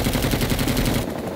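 Bushranger helicopter minigun firing in Rising Storm 2, a loud, rapid buzzing stream of shots in a continuous burst that cuts off just before the end.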